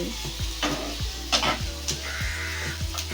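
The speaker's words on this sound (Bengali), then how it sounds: "এখন পেঁয়াজ আর কাঁচা লঙ্কাটাকে আলুর সাথে নাড়াচাড়া করে মিশিয়ে নিচ্ছি" Onions and green chilies being stirred with potatoes in a frying pan while making chole chaat, with bright sizzling and a series of distinct scraping, clinking strokes against the pan, near and without speech.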